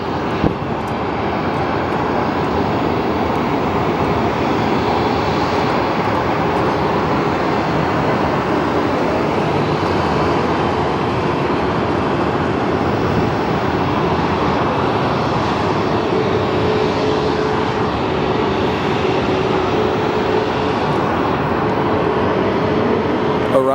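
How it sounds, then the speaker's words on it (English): A Boeing 737-700 airliner arriving at Phoenix Sky Harbor airport, its engines a steady, loud broadband roar that holds throughout without pause. "Arriving, we have a 737-700 from Austin, Texas."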